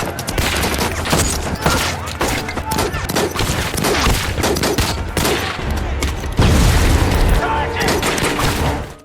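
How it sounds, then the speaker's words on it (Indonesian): Gunfire between American troops and German guards in a Normandy landing war film: dense, continuous volleys and heavy booms, loud and unbroken throughout, growing heavier near the end, with voices mixed into the battle. "terjadilah kontak tembak antara Amerika dengan tentara Jerman yang berjaga"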